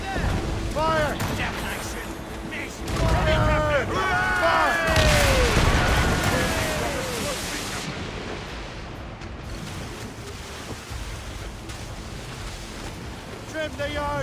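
Naval cannon broadside fire from sailing warships in Assassin's Creed Rogue, with booming blasts over crashing ocean waves and wind, shouted crew voices and a long rumbling fade.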